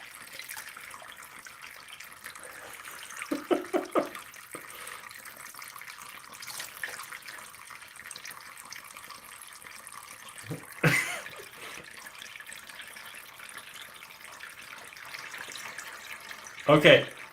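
Steady rushing and trickling of water filling a leaking container, with occasional louder splashes and bumps over the continuous flow.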